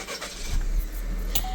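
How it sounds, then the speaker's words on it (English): A 2020 Chevrolet Equinox engine cranks and fires up outdoors, a brief starter whir settling into a steady low idle hum, with wind noise over the microphone throughout. "we're going to turn the car on"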